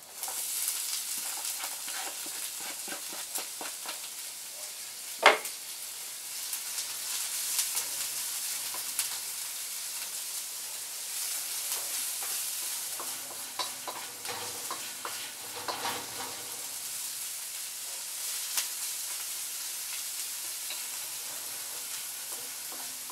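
Onions and garlic sizzle in a pan over a grill, a steady bright hiss with soft scraping stirs and one sharp knock early on, continuing close and even throughout.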